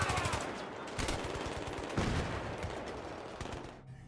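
Rapid automatic gunfire during a gunfight in Battlefield 3, played at low settings in 1080p, with quick bursts of shots, a few sharper reports standing out, moderately loud and tapering off at the end.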